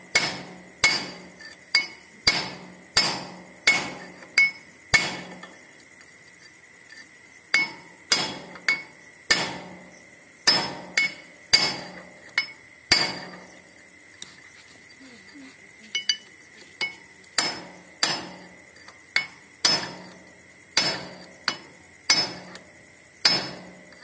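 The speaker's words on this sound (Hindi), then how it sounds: "मैं बैठा रहा हूँ ठोक के।" Steel hammer blows ring out as a bearing is driven onto a tractor's front wheel. The sharp metallic strikes come in steady, evenly spaced bursts with short pauses between groups.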